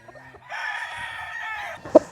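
A Boston Sweater gamefowl rooster crowing once at a game farm, a clear, close drawn-out cock-a-doodle-doo, followed by two short sharp clucks at the end over a quiet background.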